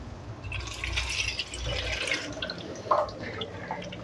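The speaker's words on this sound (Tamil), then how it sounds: "இந்த புளி தண்ணியை ஊற்றிடலாம்" Tamarind water pours steadily into a cooking pot with a soft splashing, trickling sound, close by, with a faint drip near the end.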